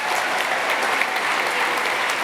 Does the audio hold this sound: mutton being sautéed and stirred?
no